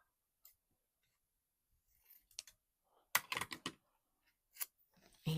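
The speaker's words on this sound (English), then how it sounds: "I don't know, maybe this isn't the right sticker. Maybe I should cut it down." Scissors snipping a paper sticker down to size in a quiet room, a few isolated small clicks followed by a quick cluster of close, crisp cuts, then one or two more snips, with no talk.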